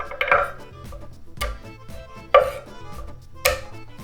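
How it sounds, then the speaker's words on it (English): A knife chops garlic on a cutting board in four sharp, separate thwacks spaced roughly a second apart, close and distinct, with quiet pauses between strikes and no talking. "And now we chop the garlic."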